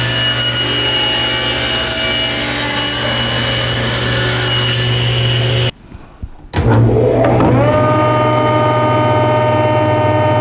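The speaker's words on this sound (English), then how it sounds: "the next thing I'm gonna do is cut this long piece into two equal sections" A saw cuts a long wooden bookcase piece into two sections, a loud, steady whirring cut that stops abruptly, falls briefly quiet, then spins back up.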